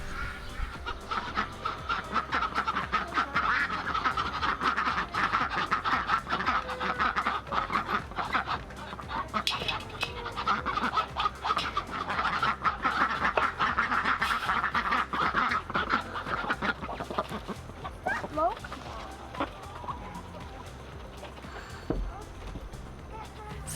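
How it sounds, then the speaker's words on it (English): Chickens and ducks on an urban homestead cluck and quack in a busy, ongoing flock chatter, with scattered sharp calls close by and voices talking faintly underneath. "we have chickens, quails, and ducks"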